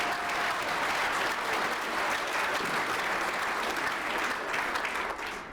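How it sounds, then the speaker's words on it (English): Sustained applause from a breakfast event audience fills the room, steady and dense for several seconds before easing slightly at the end. "You deserve an applause"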